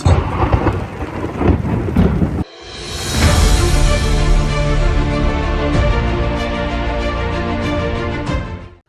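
Heavy rain pours down steadily with rolling thunder at a campsite in Araku, after a brief burst of noisy, muffled sound; the downpour stays loud and dense until it cuts off.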